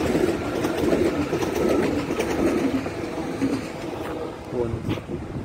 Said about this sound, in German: Hier sehen wir gerade eine S1 nach Dortmund.